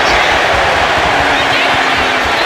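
Dense, loud roar of an arena crowd in the WWE 2K25 wrestling video game, a continuous wash of cheering with commentary voices over it.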